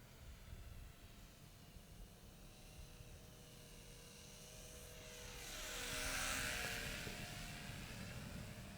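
A TopRcHobby 450mm Mini CUB-X RC model airplane's electric motor and propeller buzz steadily at half throttle, fairly faint in outdoor noise, swelling briefly as the plane passes closer and then fading again.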